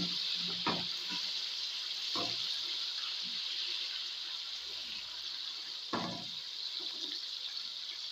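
Chopped green chilies and two medium tomatoes hit golden-brown frying onions, a steady close sizzle with a few brief stirring scrapes and clatters, no voices.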